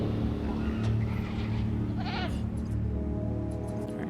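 Goats bleating in Jurassic World Evolution, a clear wavering bleat near the middle over a steady hum of game ambience and background tones.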